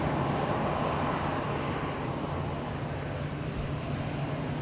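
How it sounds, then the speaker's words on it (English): Long-range TAP airliner from Lisbon at Madeira Island Airport in windy weather, heard as a continuous broad engine roar that stays loud and steady throughout with no breaks. "Then we have a TAP 1689er from Lisbon, that's a long range aircraft."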